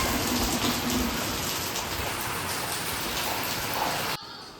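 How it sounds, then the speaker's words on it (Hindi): Heavy rain pours down in a loud, unbroken roar, then abruptly drops to a quieter patter near the end. "और ये देखो बारिश"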